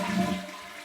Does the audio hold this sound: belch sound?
no